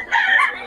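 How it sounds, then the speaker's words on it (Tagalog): A rooster offered for sale crows once, close and loud, a short strained cry. "mga tukay-tukay lang ang manok na ito yung Boss Ben"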